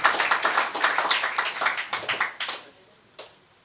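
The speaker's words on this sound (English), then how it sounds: "I think we can applaud him" Audience at a congress breaks into applause, a dense patter of many hands clapping that thins out and fades within a few seconds, ending with a lone late clap.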